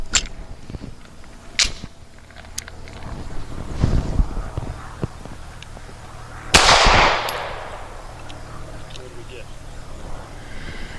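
Pistol shots from a SAR USA B6C loaded with Hornady American Gunner 115 grain hollow points at an outdoor range, a few sharp isolated cracks spaced seconds apart with one louder, closer report, plus nearby handling noises and people talking.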